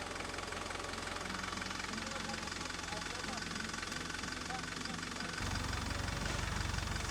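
Steady low tractor engine drone runs throughout while nets are fed through a spreader, with a rougher, louder rumble toward the end; a voice talks over it.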